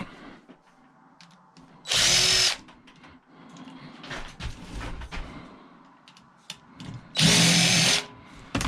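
A power drill drives screws in two loud, sustained bursts of roughly half a second each, separated by several seconds of quieter handling clatter and tool noise.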